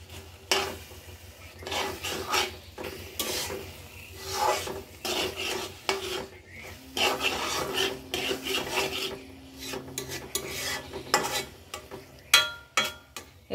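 Taro leaves being stirred and turned in a pan as they cook, a spatula scraping and rasping in repeated irregular strokes close by, with no talking.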